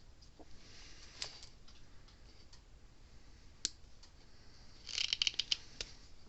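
Material being cut for a Gallagher B11 fence energizer repair makes a quick cluster of faint, close scissor snips near the end, with scattered small clicks before it and no talking.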